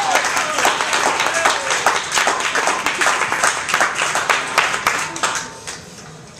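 Audience applause at a live show on Ludlow: many hands clapping in a dense, lively burst that holds steady, then thins and fades near the end.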